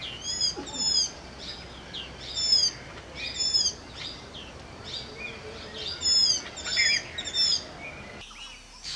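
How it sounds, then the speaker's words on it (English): Small white-eyes, birds with a white ring around the eye, feed chicks at a hammock-shaped nest in the Shivalik foothills during the monsoon. Repeated high, thin chirps and twitters come in short bursts, fairly close. "These diminutive birds with a characteristic white ring around the eye have built their little hammock-shaped nest"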